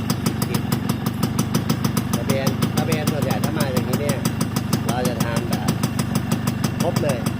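A Yamaha RXS115 motorcycle engine idling with a fast, even two-stroke putter, loud and close, running steadily under someone talking.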